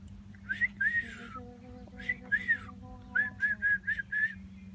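A pet talking bird whistles in a series of short rising notes, a couple at first and then a quicker run of repeated chirpy whistles, close and clear over a low steady hum.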